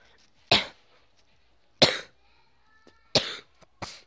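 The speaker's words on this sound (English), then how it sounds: "Sorry, coughing." Four sharp coughs spaced about a second apart, close and fairly loud, with quiet pauses between them.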